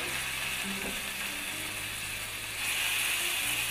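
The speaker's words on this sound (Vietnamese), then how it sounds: "Chiên sơ qua thôi quý vị, không có cần chiên chín đâu nha" Chicken pieces frying briefly in a pan for a Vietnamese chicken ragout, a steady close sizzle and crackle with faint scraping or clinking in the background.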